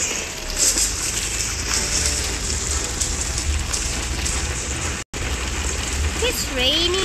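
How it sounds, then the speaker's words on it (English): Rain falls steadily in a loud, even hiss, with a brief cut in the middle and a voice speaking faintly near the end. "It's raining right now, guys."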